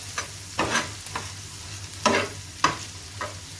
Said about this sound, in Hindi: इसको भूनना है तकरीबन 4 से 5 मिनट